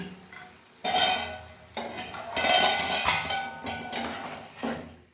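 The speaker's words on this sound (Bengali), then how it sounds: "এবার আমি ঢাকা খুলে দিচ্ছি" Metal lid lifted off a pot of jackfruit kofta curry on the stove, with clattering scrapes and knocks of pot and utensils in bursts, then a loud steady sizzle of the simmering curry underneath.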